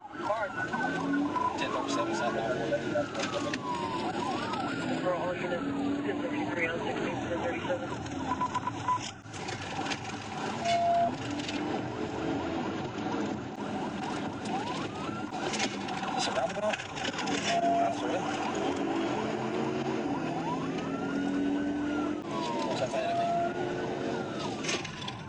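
A police car in a high-speed pursuit, recorded from a dashcam, with a wailing siren that rises and falls repeatedly over a steady engine and road rumble while a voice talks throughout.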